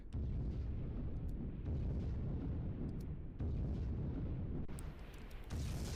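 Video game explosions from a chaotic livestream: a run of deep, rumbling booms and blasts, loud and dense, with several distinct bursts and crackling debris, no talking over them.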